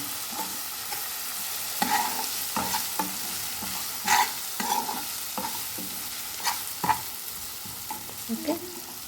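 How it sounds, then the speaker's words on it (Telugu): Egg fried rice sizzling in a pan while a utensil stirs and scrapes it, producing intermittent clanks and scrapes over a steady frying hiss, close and with no talk. "ఫ్రై చేద్దాం."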